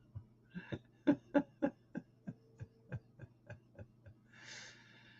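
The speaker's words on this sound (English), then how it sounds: "it's not very pleasant listening to me coughing" A long series of short, rhythmic cough-like bursts, roughly a dozen in a row, fading slightly, followed by a breathy exhale; quiet and close.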